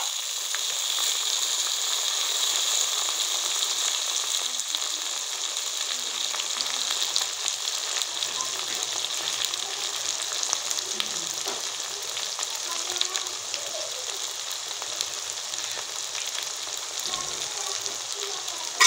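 Garlic-ginger paste and lightly browned onions fry in a pan for a green peas and egg curry, giving a steady, even sizzle with faint crackles throughout and no talking.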